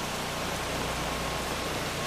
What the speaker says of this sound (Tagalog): naabutan na kami ng malakas na buhos ng ulan